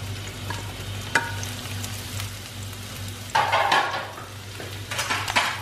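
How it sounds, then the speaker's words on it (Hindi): Finely chopped onions fry on a tawa for tawa keema, a close crackling sizzle with bursts of louder hissing and scraping as they are stirred, with no one talking. "छोटे छोटे मैंने ये काटे हैं प्याज, तो मैं इसको डालूँगा"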